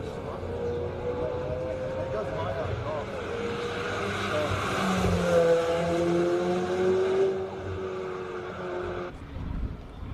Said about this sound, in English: We got Garth McIntosh going out to the McLaren